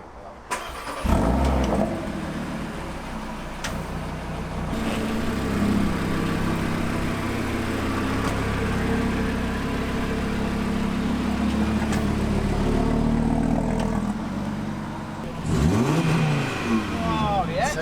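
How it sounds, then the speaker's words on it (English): A new 2020 Audi RSQ3 Vorsprung engine revs up and settles, a loud sustained turbocharged roar with rising and falling pitch, heard from close by while people talk over it. "Turbo sound."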